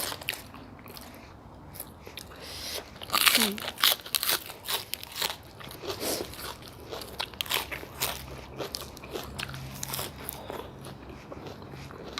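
Crispy vegetables crunch between the teeth while someone eats pork noodle soup topped with fried garlic and chili oil. Close, repeated crisp bites and chewing crackles come in an uneven rhythm, with some talk in the background.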